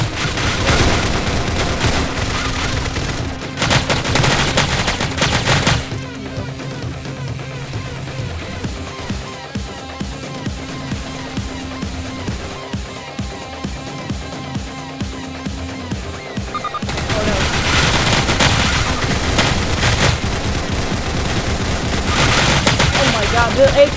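AK rifle fire rattles in a video game in long rapid bursts, loud and dense, with quieter stretches of scattered shots between, and a voice talking at times.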